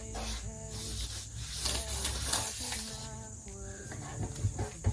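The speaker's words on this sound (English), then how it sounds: "I'm gonna go in it again with this sponge and some thinners and see if it works" A sponge soaked in paint thinner scrubs across a painted bedroom wall, giving a steady rasping rub that runs throughout with busy background music and no pauses.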